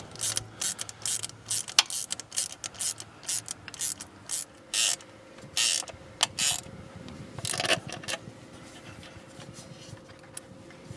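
A hand ratchet tightens the clamp on a Powerstroke boost tube boot in a run of short, crisp clicking bursts with brief pauses between strokes, close and fairly quiet.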